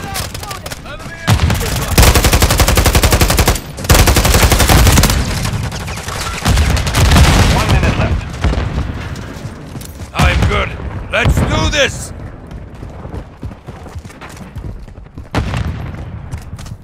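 Dense, loud bursts of automatic gunfire and explosions in Call of Duty: Modern Warfare III, sustained volleys with brief gaps, while voices talk over the combat.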